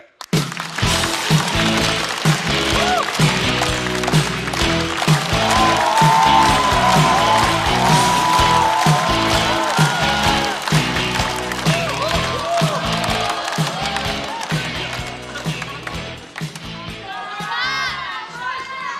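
A stand-up comedy audience welcomes a comedian with loud cheering, whooping and applause, a dense crowd roar holding steady and then slowly fading near the end.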